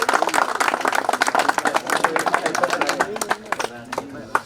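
Audience at a Kakatiya High School 2010-11 SSC batch get-together clapping for their teachers, a dense, steady patter of many hands close by, with voices mixed in.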